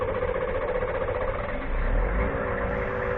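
A Hummer's large engine runs steadily at a loud, rough, rumbling idle, close by, with a slight swell partway through.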